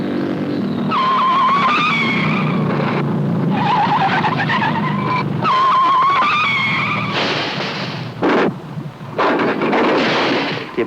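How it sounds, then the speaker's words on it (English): A motorcycle roars through a tense film sequence, the engine note climbing and falling in loud, sustained bursts before cutting to near silence, then a couple of sharp short bursts. "Even the ominous roar of the motorcycle tips off the audience that Lawrence is going to be killed"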